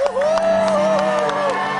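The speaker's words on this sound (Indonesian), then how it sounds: "tepuk tangan dulu dong buat Item Tension" An audience cheers and applauds a performer, a short burst of crowd noise with claps and whoops beneath a sustained tonal sound carrying over it.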